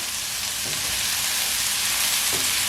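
Green peppers and meat frying steadily in a pan for chili, a loud, close, continuous sizzle with a couple of soft stirring scrapes.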